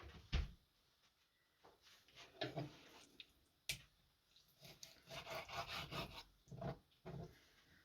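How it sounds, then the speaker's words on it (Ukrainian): Faint, uneven knife strokes chop food into pieces on a wooden board, with scattered sharp taps and short rubbing cuts separated by pauses. "ріжу на шматочки і ріжу на шматочки"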